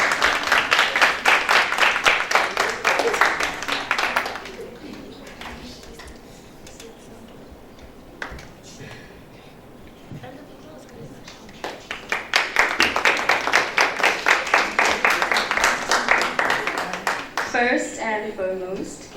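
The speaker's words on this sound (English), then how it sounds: "Miss Ongeziwe, please give her a hand clap." An audience clapping at a Grade 7 farewell ceremony at Christ the King, two bursts of brisk, fairly close rhythmic hand claps separated by a quieter gap, with speech heard between and at the end.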